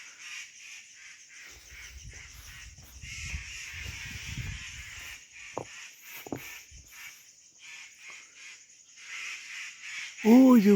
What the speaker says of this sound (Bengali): ওই তো পাখি ডাকছে,